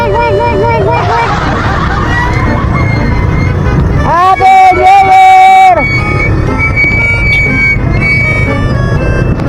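Busy street traffic on New Year's Eve, with a steady roar of engines and crowd babble throughout and a loud burst of tonal horn-like blasts in the middle; voices chatter beneath.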